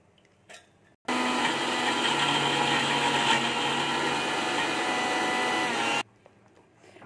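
Electric grinder blending soaked pea dal into paste: a loud, steady whirring motor runs for about five seconds, starting and stopping abruptly, close up with no talking.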